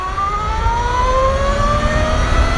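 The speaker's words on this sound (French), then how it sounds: "Ça siffle énormément. C'est lié au moteur mais aussi à la transmission par chaîne." An Energica EVA EsseEsse9 electric motorcycle gives off a strong, rising whine from its electric motor and chain drive as it pulls away, with several steady tones climbing together over road rumble and wind noise.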